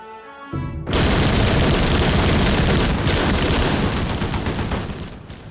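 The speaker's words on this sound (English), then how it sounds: "After what seems an eternity, I order the machine guns to open fire." Dense, loud machine gun fire erupts in a sustained roaring barrage of overlapping bursts during a Korean War battle on a hillside, continuing for several seconds before easing off.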